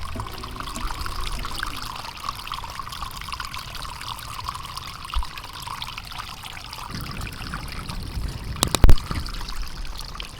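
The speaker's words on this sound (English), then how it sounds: "Here's that drain, that French drain check dam in action." Water trickling and pouring steadily through a French drain check dam in a small outdoor watershed channel, a continuous close babbling flow with a couple of brief knocks near the end.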